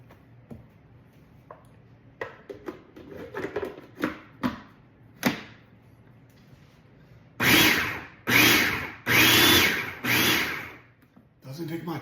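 An electric mixer whips softened butter with garlic scapes in several loud, whirring bursts near the end. Before that come scattered kitchen clinks and taps.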